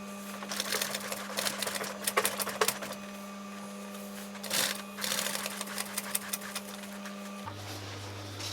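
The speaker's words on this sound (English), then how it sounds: "I'm going to top stitch this seam here" A sewing machine top stitches a seam on a camper cushion, a close rapid mechanical clatter running in bursts over a steady motor hum, which drops to a lower hum near the end.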